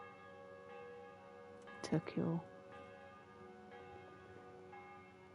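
A church bell tolls in the medieval video game Kingdom Come: Deliverance, sustained ringing tones with a few distant repeated strikes, while a voice briefly speaks over it.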